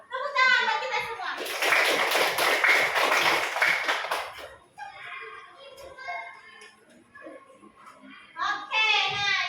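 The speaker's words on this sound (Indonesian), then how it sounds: "Tepuk tangan buat kita semua." Children clap their hands together in a classroom lesson, a dense burst of clapping lasting a few seconds, framed by children's voices chanting before and after.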